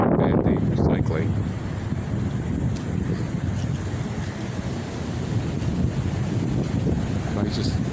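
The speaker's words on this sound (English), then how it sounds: "Look at the wind turn my wheel on the bicycle." Strong windstorm gusts batter the microphone in a continuous rough roar beside water, with a voice briefly at the start and a few faint clicks.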